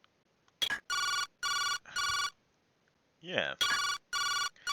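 Phone ringing in the Jake Hunter Detective Story video game: loud electronic rings in evenly spaced bursts, interrupted by a short spoken voice before the rings resume.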